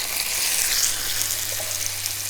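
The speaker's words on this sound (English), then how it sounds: "Hear that nice sizzle?" Steady, close sizzling of peppers frying in hot oil in a pan, a continuous crackling hiss with no voices.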